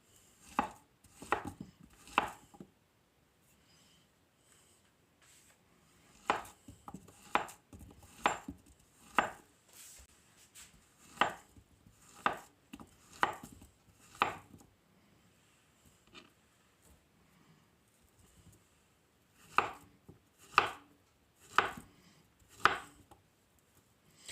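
A knife slices peeled bananas for banoffee pudding on a board, making quiet, close taps in steady runs of three to five cuts separated by short pauses, with no talking.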